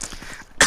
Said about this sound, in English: Didn't mean to cough straight into the mic.